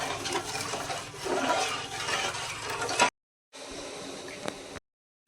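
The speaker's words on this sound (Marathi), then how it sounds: "1 तांब्या पाणी वतायचं असं." A pot of water is poured into sugar to make syrup for village-style khoya gulab jamun. The close, steady rushing pour runs for about three seconds, pauses briefly, then continues more softly.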